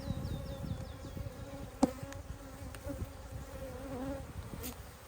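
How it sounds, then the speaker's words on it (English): Honey bees swarm and buzz around an opened hive of capped honey frames during a beekeeping inspection, a steady close droning hum with a few sharper taps and no talking. "A bee just stung me."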